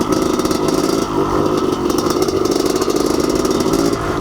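Honda CR500 enduro motorcycle ridden along a single track trail, its two-stroke engine droning loud and close with steady revving and rattling clatter throughout, no talk.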